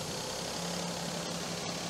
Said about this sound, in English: I'm still idling about 1200.